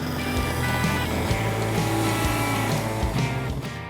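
Bosch blender motor whirring loudly and steadily at high power as it grinds sugar into powdered sugar, a continuous close hum with rattling texture throughout.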